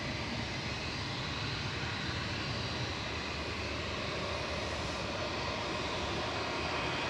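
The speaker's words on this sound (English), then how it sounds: "A319 going next, back down to Heathrow with flight 1383" A 19-year-old British Airways Airbus A319 departing Manchester Airport for Heathrow, its jet engines a loud, sustained roar that holds steady and swells slightly as it climbs away, with no talking.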